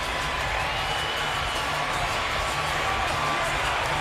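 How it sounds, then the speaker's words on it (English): A boxing arena crowd roars after a fight, a steady dense wash of cheering and whooping that holds at a constant loud level throughout. "Crowd is still going crazy"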